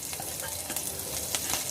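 Cumin seeds and bay leaves sizzle and crackle in hot oil at close range, with steady frying hiss and occasional stirring scrapes.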